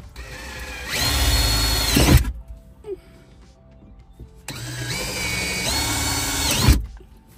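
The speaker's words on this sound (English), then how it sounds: "Gonna grab the bigger drill bit and drill that out real quick." A power drill whirs loudly in two sustained bursts, each a couple of seconds long, with a quiet pause between them, drilling out a hole in a phone mount plate in a Nissan Xterra.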